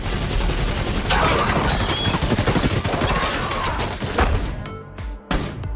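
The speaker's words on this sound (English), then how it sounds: "she mounted the heavy machine gun and joined the fight. Under the barrage of fire, the monsters were riddled with holes and fell silent" A heavy machine gun fires a dense, loud barrage of rapid bursts with thumping impacts, cutting off into short gaps near the end.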